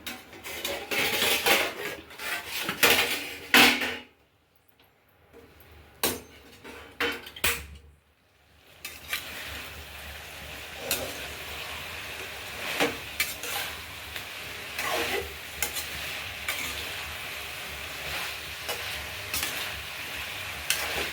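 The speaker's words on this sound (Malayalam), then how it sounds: "അവിയലിന് ഒന്ന് നമുക്ക് തുറന്ന് നോക്കാം, ഇളക്കി കൊടുക്കാം." A pot lid comes off the simmering aviyal, a Kerala mixed-vegetable dish, followed by bursts of metal spoon clatter and stirring that scrape against the pot, broken by a couple of quiet pauses and then steady gentle stirring.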